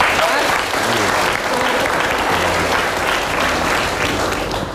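Studio audience of a television talk show applauding loudly and steadily, a dense wash of clapping that fills the room and continues without pause.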